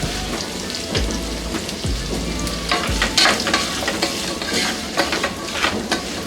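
Finely chopped capsicum, about a quarter kilo, sizzles and hisses in hot oil with salt, a steady close crackle broken by a few scraping stirs of a spatula against the pan.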